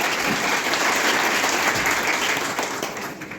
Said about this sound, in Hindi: एक बार सभी अतिथियों के लिए जोरदार तालियों से अभिनंदन कीजिए।